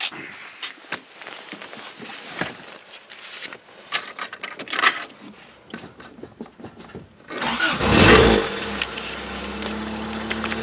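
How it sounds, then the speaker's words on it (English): A Toyota AE86 under a home build: keys jangle close up, then the engine cranks and fires with a loud burst before settling into a steady, slightly rattly idle. "the car runs pretty good."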